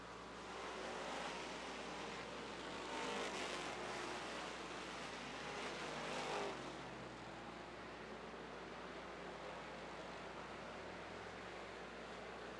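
Stock race cars circling the oval at Rockford Speedway during a AA feature, a steady broadband roar of engines and wind-like rush with slight swells as packs pass, fairly distant and continuous.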